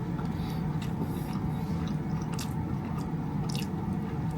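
Someone eats crab fried rice in a Bangkok restaurant, with soft close chewing and light clicks of utensils over a steady room hum.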